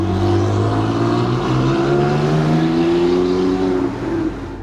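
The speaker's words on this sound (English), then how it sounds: "Its incredibly powerful engine of 750 horsepower accelerates the car to 100 kilometers per hour in less than 3" Lycan Hypersport sports car with a 750-horsepower engine accelerating hard, a loud rising roar with climbing engine pitch through the gear, dropping off slightly near the end.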